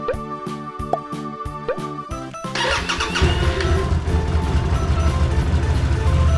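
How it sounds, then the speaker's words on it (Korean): An Aquila 300S (GV300S) motorcycle engine cranks with a rapid, slightly labored rhythmic chugging, then catches on the first try and settles into a loud, steady idle close by. "엔진 소리가 조금 힘들어 보이지만 그래도 한 방에 걸린다"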